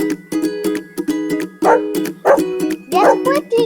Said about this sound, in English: Excellent, it's a dog.